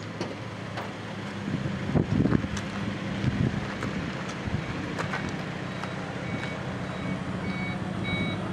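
Wheelchair lift on a lift-equipped vehicle running through its check, giving repeated high electronic beeps over a constant mechanical hum and wind noise, with a few clunks along the way.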